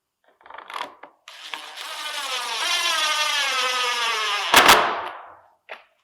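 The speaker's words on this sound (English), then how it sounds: "run our screw" A screw driven into a plastic wiring channel block with a power drill, a rising whirring buzz sustained for several seconds, then a sharp crack and winding down, preceded and followed by brief handling clicks.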